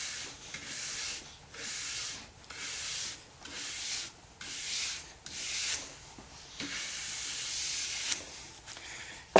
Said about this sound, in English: And you always want to follow up with a horsehair brush.